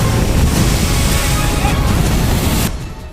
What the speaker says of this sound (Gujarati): ગોમતી ઘાટ પર 10 થી 12 ફૂટ ઊંચા મોજા ઉછળ્યા